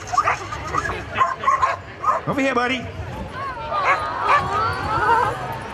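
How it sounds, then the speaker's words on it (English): An 8-year-old border collie gives excited yips, whines and short barks at an outdoor frisbee dog show, mixed in with someone talking close by. "Now, Maui's an 8-year-old border collie."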